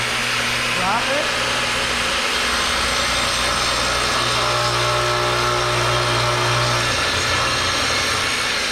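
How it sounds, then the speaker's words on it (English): A circular saw spins up to full speed and cuts through wood, a loud sustained whining roar with a grinding edge that holds steady across the whole stretch, with talking underneath. "So I'm going to go ahead, pull up, pull the trigger, make sure it's at full RPM before I start cutting."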